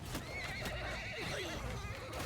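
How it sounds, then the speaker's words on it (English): Horses neigh and whinny in the Mount and Blade II: Bannerlord battle game, with hoofbeats clip-clopping underneath; the calls come close and loud over a busy, continuous background of battlefield noise. "Runaway horses."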